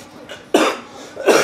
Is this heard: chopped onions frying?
no